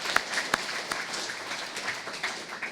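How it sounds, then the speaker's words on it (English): Scattered, fairly quiet applause from a small crowd at a school building ribbon cutting, a few sharp claps standing out over a soft, steady patter. "if we can have a round of applause for our operations team as well"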